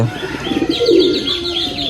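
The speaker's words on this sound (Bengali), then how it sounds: "এখানে হাট থেকে আনা কিছু কবুতর আছে" Market-bought pigeons in a loft coo loudly and close by, with rolling low calls overlapping light chirps through the whole moment.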